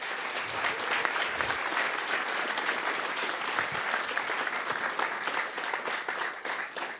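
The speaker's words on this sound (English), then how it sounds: "So again, like huge round of applause to you guys." A conference audience at NixCon 2024 in Berlin claps in a dense, sustained round of applause that stays loud and even for several seconds before beginning to thin out.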